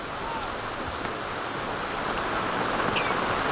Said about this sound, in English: Rain happens fast.